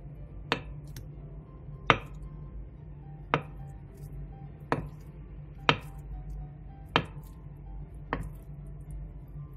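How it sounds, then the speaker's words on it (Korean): A knife cuts through half a block of dried tofu, slicing it about 1 cm thick, in seven crisp, evenly spaced chops against a cutting board, close and clear with no talking. "두부 반모에 물기를 키친타올을 이용해 완전히 제거하고 1cm 정도 두께로 잘라주세요"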